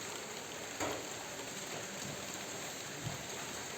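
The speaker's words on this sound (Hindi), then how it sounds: "बहुत बारीक सी बूंदें पड़ रही है, लेकिन कंटिन्यूसली पड़ी रही है" Fine, continuous drizzle falling outdoors in a hilly mountain area, a steady soft hiss of tiny raindrops with one or two faint taps, no voices.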